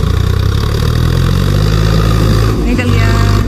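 Tractor engine labouring on a narrow road while stuck, a steady low rumble that revs and strains, with a brief dip in the middle before it picks up again, with voices talking over it.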